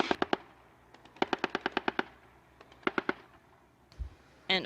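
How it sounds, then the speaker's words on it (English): A 30mm grenade launcher fires rapid muffled bursts of discharges at a Russian army forum display, several quick strings of sharp reports broken by short pauses, with no speech over them. "Now you can hear the muffled sounds of discharges. This is the work of the 30mm grenade launcher."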